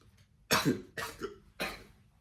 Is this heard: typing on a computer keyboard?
no